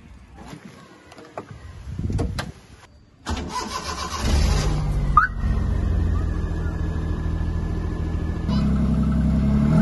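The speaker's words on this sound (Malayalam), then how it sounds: "നമുക്ക് ബോണറ്റ് അടച്ചിട്ട് വണ്ടി ഒന്ന് സ്റ്റാർട്ട് ചെയ്ത് നോക്കാം." An old Maruti 800 car engine cranks and catches, then settles into a steady idle close by, with a brief electronic chirp from an aftermarket remote alarm as it fires up.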